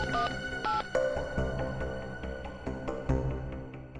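Several short electronic tones, like phone keys being dialed, followed by clicks and light handling noises, with no talking.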